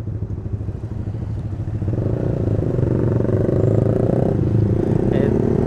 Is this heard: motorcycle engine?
yes